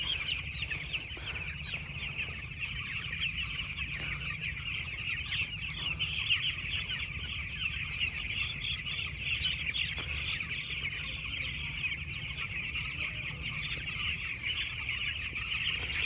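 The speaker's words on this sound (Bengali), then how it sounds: "এই যে দেখো 8 দিনের চিক্স ফার্মে।" Eight-day-old chicks on a poultry farm, a dense continuous chorus of high peeping and cheeping from many birds at once, steady and close, with no talking.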